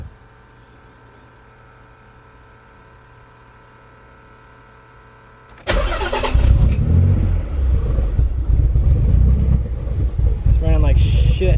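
A twin-turbo Nissan 300ZX engine cranks and fires up after a quiet stretch, then settles into a loud, rough, uneven idle that keeps going to the end, with the surrounding hum constant underneath.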